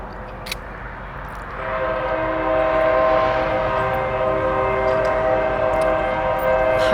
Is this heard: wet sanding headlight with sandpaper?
no